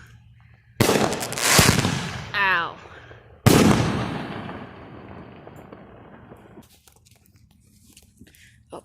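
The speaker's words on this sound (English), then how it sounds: "We're lighting fireworks at night." Night fireworks bursting close by, two sharp loud bangs with crackling tails and fading rumble, a person briefly crying out between them.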